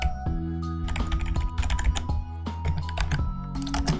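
Keys clatter in quick irregular bursts on a computer keyboard, close and clear, with short pauses between runs of strokes and a steady background hum.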